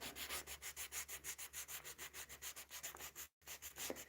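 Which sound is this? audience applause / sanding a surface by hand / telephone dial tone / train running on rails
sanding a surface by hand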